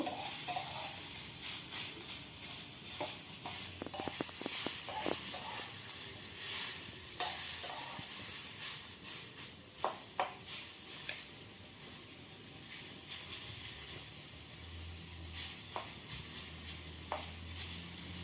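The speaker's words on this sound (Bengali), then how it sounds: "পেঁয়াজটা একটু হালকা লালচে ভাব হলেই আমি নামিয়ে নেব" Onions sizzle steadily in a hot pan as they cook toward a light reddish brown for a mushroom and prawn paste, with occasional soft stirring scrapes and no voices.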